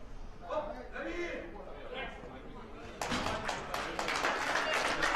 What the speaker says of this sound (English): The applause ringing around